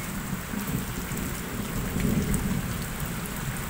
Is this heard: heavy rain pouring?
yes